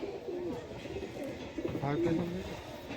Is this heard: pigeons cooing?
yes